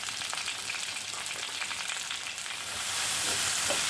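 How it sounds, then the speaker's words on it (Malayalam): Sliced bitter gourd sizzles and fries in a pan with mustard seeds and chillies, a steady crackling hiss that grows louder and denser toward the end, with no talking. "ഇനി നമുക്ക് അരിഞ്ഞു വെച്ചിരിക്കുന്ന പാവയ്ക്ക ഇടാം ഒരു ടീസ്പൂൺ ഉപ്പിട്ട് കൊടുക്കാം"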